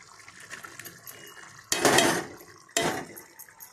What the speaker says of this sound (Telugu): ఇదిగోండి ఈ పన్నీర్ ముక్కలు వేసేస్తున్నాను ఇప్పుడు